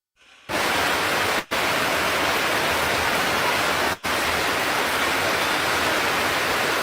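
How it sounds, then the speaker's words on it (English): Heavy rain pours and drums steadily onto a tarpaulin shelter during a hurricane storm in Jamaica, a loud dense wash of water noise with two brief dropouts. "Rain coming in on them."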